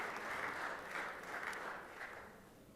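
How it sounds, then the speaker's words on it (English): Audience applause inside the Georgia Senate chamber during a 2024 session, a soft, fairly distant patter of many hands that holds steady and then gradually thins toward the end. "give her a round of applause"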